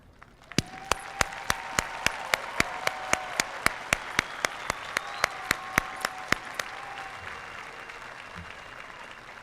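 At an outdoor high school graduation ceremony, an audience applauds in a soft, distant spread of clapping, while a regular series of sharp clicks sounds on top and a tonal whistle-like sound rises in between.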